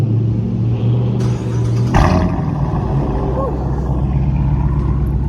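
A car engine cold-starts with a sudden loud catch, then settles into a steady rumbling idle with a brief rev, close by, while someone talks over it.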